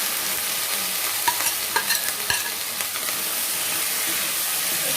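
Pointed gourd and potato pieces going into a pan of softened tomatoes, with a steady broadband sizzle and clattering stirs or drops at intervals, close and clear, no talking.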